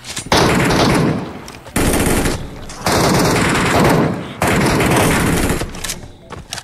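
Rapid automatic gunfire from the mobile game PUBG Mobile Metro Royale rattles in loud sustained bursts separated by short pauses, with a faint voice briefly heard between them.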